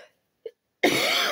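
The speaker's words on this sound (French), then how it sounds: "je vais encore tousser" A single short cough from a woman doing cross-stitch at home, close and isolated after near silence, followed immediately by her speaking.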